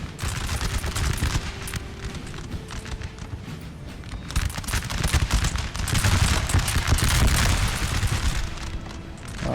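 Standard musket fire rattles almost nonstop across a Napoleon: Total War battlefield. Dense volleys of crackling shots overlap with deeper booms and grow louder toward the end, with no talk over them.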